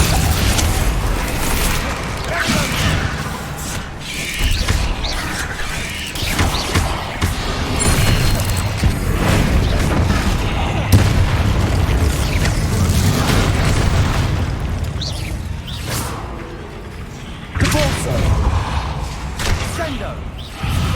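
Bombarda explosion spells go off in Hogwarts Legacy, a dense, loud barrage of booming blasts, thuds and crashes with voices calling out spell incantations over the continuous combat noise.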